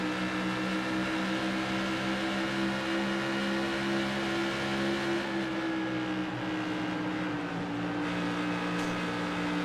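A steady, droning modified-series race car engine on the track in Iowa holds a constant high pitch, loud and continuous without letting up, with no talking.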